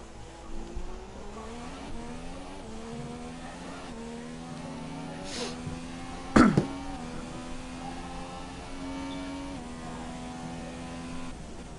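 Fernando Alonso's Formula 1 car in the F1 2017 racing game, its high engine whine climbing and dropping through gear changes, with a sharp burst of tire squeal midway and no talk.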